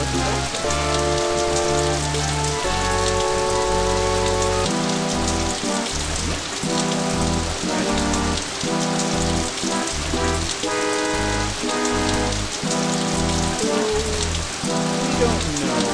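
Heavy driving rain hisses steadily and densely under a loud, continuous music bed, with no pauses throughout.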